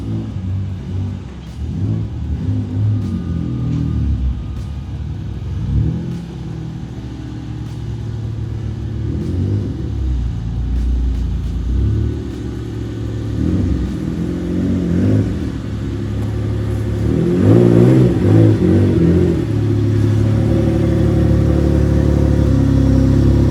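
A Mitsubishi 3000GT drift car idles with a deep rumbling engine close by, its note swelling in short revs and growing louder and rougher toward the end.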